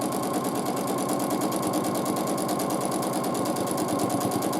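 A sewing machine stitches quilting shapes through fabric, a rapid, steady mechanical chatter with an even pulsing rhythm heard up close and alone.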